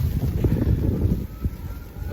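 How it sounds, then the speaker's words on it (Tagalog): Strong, gusty wind during a New York snowstorm buffets the microphone in loud, rumbling bursts. It briefly eases before surging again. "Lakas ng hangin."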